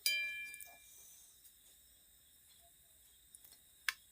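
A metal vessel clanks while freshly cooked rice is served, giving a sharp ringing clang at the start that slowly fades. Softer taps follow, then a bright metallic ding near the end, all in a quiet kitchen.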